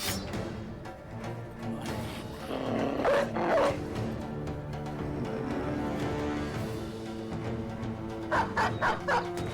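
In the video game Battle Brothers, a dog barks and growls several times in short, rough bursts over layered game music and battle effects, with the barks loudest near the middle and end.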